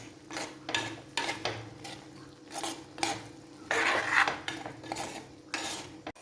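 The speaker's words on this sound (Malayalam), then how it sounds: "നമുക്കൊന്ന് ഇളക്കിയിട്ട് കൊടുക്കാം" A spoon stirs an ivy gourd and chickpea stir-fry in a pot, making repeated close scraping and clinking against the metal in an uneven rhythm over a faint sizzle.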